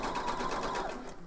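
A home sewing machine stitches fabric over an elastic casing, a fast steady mechanical whirr with rapid rhythmic needle pulses for about a second, close and fairly loud.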